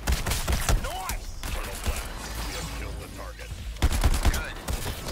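Rapid bursts of gunfire from the video game Suicide Squad: Kill the Justice League, loud clustered volleys at the start and end with quieter stretches of combat noise between, and brief excited voices.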